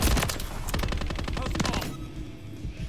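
Rapid automatic gunfire bursts loud and close in Call of Duty MW3, a dense volley for nearly two seconds before dropping to quieter background game noise.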